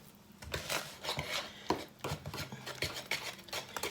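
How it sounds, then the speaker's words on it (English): Brownie batter with eggs being stirred in a bowl, a run of scraping, knocking strokes from the spoon against the side, irregular and close, fairly quiet, with no talking. "Get the eggs all mixed up in there."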